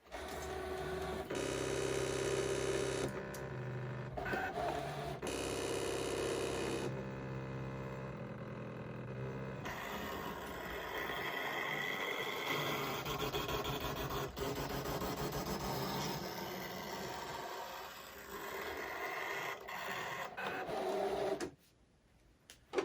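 A machine runs with a buzzing, whirring mechanical drone, its motor pitch shifting in stages and stopping abruptly near the end.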